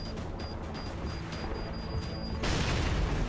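A booming video game explosion bursts in after a stretch of quiet rumbling and faint beeping, its noisy blast lingering to the end.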